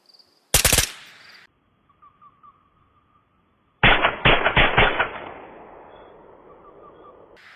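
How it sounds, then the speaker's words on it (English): Gunfire in the VR shooter Ghosts of Tabor: a short, loud burst of rapid shots up close, then after a pause a longer volley of several sharp shots trailing off in a reverberant tail. "I just shot at him."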